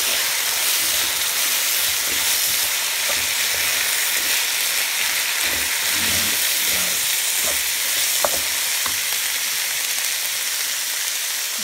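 Washed rice frying and being stirred in a pan, a steady broadband sizzle with occasional scraping clicks from the spoon, continuous and fairly close, with no voices.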